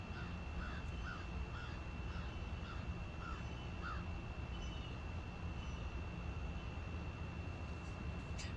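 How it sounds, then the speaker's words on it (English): A crow caws in a short series of repeated calls at moderate distance over a steady low rumble of background noise. "The crow agrees."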